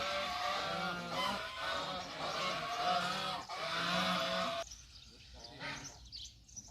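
Geese honk repeatedly and loudly nearby, a noisy overlapping flock chorus, with a voice briefly mixed in.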